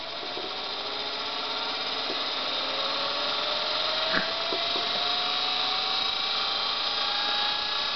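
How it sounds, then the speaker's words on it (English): An electric motor on a limited power supply whines steadily throughout, its tone rising slowly as it spins up with little amperage, heard alone with a faint click midway. "You can hear the motor spinning up slowly because it's not getting much amperage."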